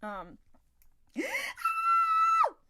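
A person vocally imitates the scream of the cartoon character Finn from Adventure Time, a brief cry followed by a rising wail and a long, high sustained shriek that drops off sharply, loud and close.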